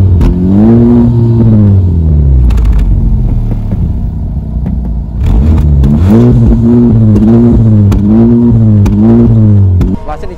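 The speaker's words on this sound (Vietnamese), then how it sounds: "Và ngay sau đây thì mời anh chị cùng em nghe cái tiếng bô nha" A 2023 Honda Civic Type R's exhaust revs up and down in repeated loud, throaty swells, rumbling deeply between blips, very close.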